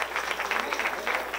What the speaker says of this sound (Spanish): Y yo les pido un fuerte aplauso para estos jóvenes que nos apoyaron mucho.